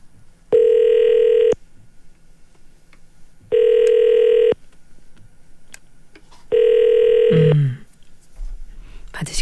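Ringback tone of a phone call to a radio listener during a morning radio show, three long steady buzzing rings with pauses between, loud and clear, followed by a brief click as the line picks up.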